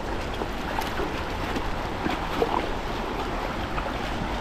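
A strong river current rushes over rocks in a steady, full roar of moving water with no break or pause, close and loud throughout.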